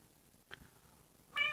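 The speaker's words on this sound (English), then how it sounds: "If you can hear my cat meowing" A cat meows twice, first a short faint chirp, then a louder, clearer meow at the end, in an otherwise quiet room.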